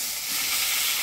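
Whole cumin seeds and cut eggplant hit hot oil in a Bengali fish curry pot and give off a brief, loud, broadband sizzle and hiss.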